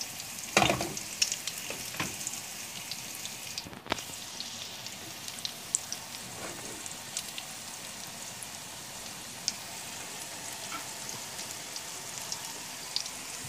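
Green beans frying in a pan give a steady, continuous sizzle with crackling pops, louder at first and then settling into an even hiss, with no voices.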